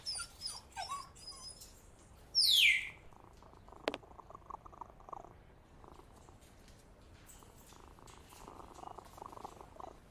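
Cat purring in the Sherlock Holmes Versus Jack the Ripper PC game, a soft low rumble under a quiet ambient background, with a brief bright meow-like cry near the start and a sharp click shortly after.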